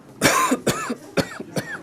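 A man coughs four times in quick succession, harsh and close, with short rough breaths between the bursts.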